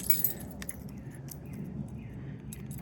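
Keys jangle near a 2006 Ford F250 Super Duty King Ranch with the 6.0 engine, a few light metallic clinks and rattles spread across a few seconds, close and fairly quiet.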